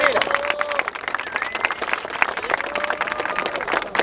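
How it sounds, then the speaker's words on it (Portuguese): A crowd claps and cheers loudly and continuously after a rap verse at an open-air rap battle in Barueri, São Paulo, with whoops and whistles rising over the dense applause. "muito obrigado pelas palmas, mano."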